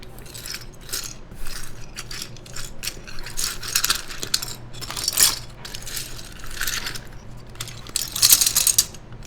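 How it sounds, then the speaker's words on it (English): ABS keycaps dropped by hand into a bag, giving a run of light plastic clicks and rattles that come in irregular clusters, close by and fairly loud, with no voice over them. "there it is with ABS keycaps now. Let's put the rest in the bag."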